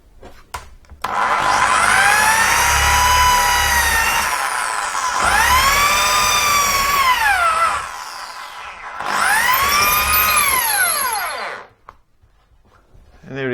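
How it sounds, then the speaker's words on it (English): A power drill bores up through wardrobe wood in three long bursts, its whine rising and dropping in pitch as the bit bites, loud and close with pauses between. "I'm going to drill straight up there and pull the cables out through the top here"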